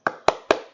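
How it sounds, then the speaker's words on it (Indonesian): A group of primary-school pupils doing a rhythmic spirit clap in class, three sharp, evenly spaced claps in quick succession, close and clear. "Yuk kita mari tepuk semangat."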